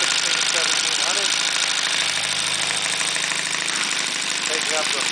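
Saito 300 twin-cylinder model engine with C&H ignition running at about 1600-1700 RPM, a loud, steady rapid putter with even pulses throughout, with brief speech mixed in over the engine.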